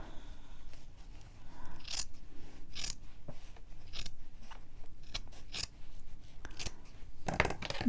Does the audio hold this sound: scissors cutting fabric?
yes